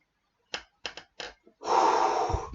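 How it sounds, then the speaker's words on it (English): During a breathing exercise with a feedback device, a person takes several short, sharp sniffs, then draws one long, steady, deep inhalation, close and loud, with no talking. "So I'm breathing in slowly."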